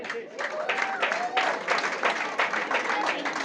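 Audience applause at a launch event for the Tulu film Middle Class Family's tickets in Dubai: a steady wash of many hands clapping, moderately loud and sustained throughout, with faint voices mixed in.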